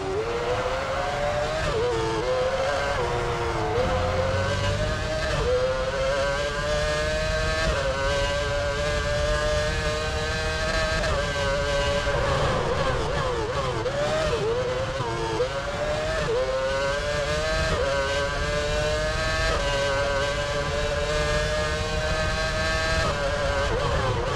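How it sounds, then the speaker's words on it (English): An F1 race car engine in the game F1 Championship Edition screams through a fast lap. Its pitch climbs and drops repeatedly with gear changes and corners, loud, close and continuous, with no talking. "David Coulthard finishes his fast lap."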